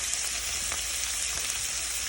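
Chopped onions, seasoned with salt and pepper, sear in a dry pan without oil for tofu and pork sisig, giving a steady moderate hiss with a few faint stirring scrapes and no voices.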